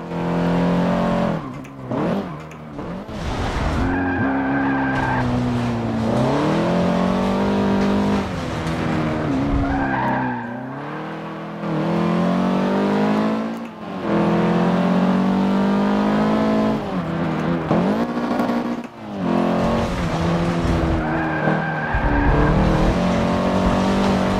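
Race cars in Forza Motorsport 7 roar continuously, engines revving up and down through gear changes with occasional tire squeal, loud and close throughout.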